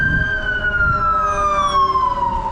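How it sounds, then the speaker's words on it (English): An ambulance siren in Los Angeles wails past on the street, a steady tone that slowly slides downward as it moves by under traffic rumble. "Just one ambulance coming in hot."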